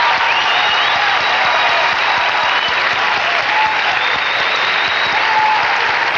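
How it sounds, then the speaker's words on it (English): Steady, dense applause fills an arena at the 1987 Westminster Kennel Club dog show's Herding Group, loud and continuous throughout with no pauses. "And here comes the applause."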